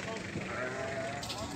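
Young male lamb and other sheep at a busy livestock bazaar in Osh, with bleats rising over a steady murmur of market chatter and nearby voices throughout.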